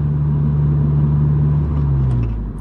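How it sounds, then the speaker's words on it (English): A 9th-generation Honda Civic Si with an aftermarket exhaust, downshifted to third and revved: a short, loud, steady exhaust drone close by that eases off at the end, no talk. "Downshift to third gear and give her a little rip."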